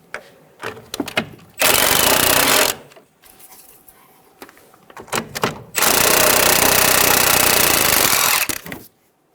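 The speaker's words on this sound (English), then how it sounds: "We'll use a 15mm socket to remove the nut." A ratcheting socket wrench works the nut off a front sway bar link on a 2000-2007 Ford Focus, giving two long loud bursts of rapid buzzing clicks with quieter tool handling and clanks between them.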